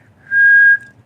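A handmade jaw harp gives one clean, steady whistle-like tone that sustains for about half a second, bright and close, then cuts off abruptly.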